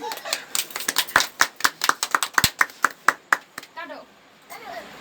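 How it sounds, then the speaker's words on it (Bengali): At a child's third birthday party, people clap in a quick, uneven burst of sharp claps that lasts about four seconds. Voices talk and call out over the clapping and continue after it fades. "হাততালি দাও সবাই, হাততালি"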